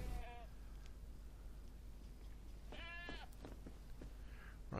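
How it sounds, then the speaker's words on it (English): A goat in the video game DayZ bleats twice in short wavering calls over constant low background noise, the second bleat louder and clearer. "Oh, there's our goat."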